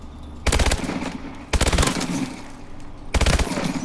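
AMR9 fired from the hip at maximum range in Call of Duty: Advanced Warfare, three loud close bursts of rapid automatic gunfire separated by short pauses with a faint background hum.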